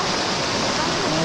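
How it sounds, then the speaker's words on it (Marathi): Muddy monsoon rainwater rushes down from the forest in a loud, dense, steady roar of flowing water, with a voice faintly under it. "पाणी आता गडू यायला लागलं जंगलातून"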